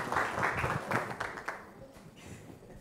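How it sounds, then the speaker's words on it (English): A small audience claps after an acrobatics demonstration at a public-speaking session, a short burst of applause that fades within a few seconds, fairly faint. "A round of applause for her"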